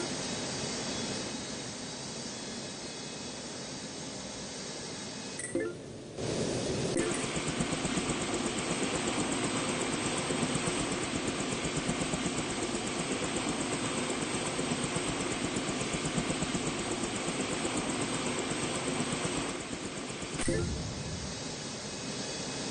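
A helicopter engine hums and whines steadily inside an air traffic control video game, a constant droning tone that briefly dips twice, with radio-style voices talking over it.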